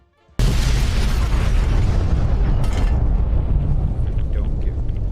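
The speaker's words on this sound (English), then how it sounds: "We're about to have an explosion in about 3 seconds." After a brief quiet, an explosion hits with a sudden loud blast, then a roaring rumble rolls on for several seconds as voices murmur faintly underneath.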